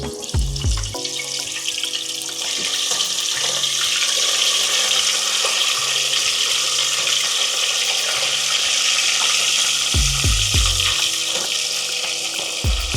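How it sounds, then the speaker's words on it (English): Turkey being deep fried in hot vegetable oil for Nigerian smoky jollof, a loud, steady hiss and crackle of bubbling oil running throughout with a few low thumps and clanks of the pan near the start and again later. "In the hot oil, we're going to add our turkey gently."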